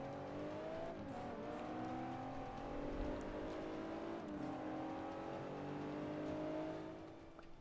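A race car engine in the Forza 5 video game revs steadily while overtaking another car, its pitch rising and dipping with gear changes, continuous and fairly quiet with no talk.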